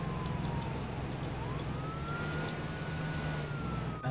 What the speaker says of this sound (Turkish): Aha yaktı abi sireni geliyor.